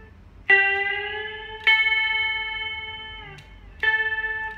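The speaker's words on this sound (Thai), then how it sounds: "เนี่ยคือดีดก่อนนะครับแล้วค่อยดันสายขึ้น" Electric guitar notes picked one at a time, each bent upward in pitch as the string is pushed, ringing clear and sustained, three to four separate plucks with no talking.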